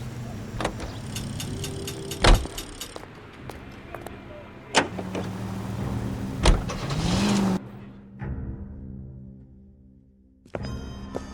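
A car in L.A. Noire starts and drives, with door thumps, engine hum and a revving passage before the motor cuts out near the end.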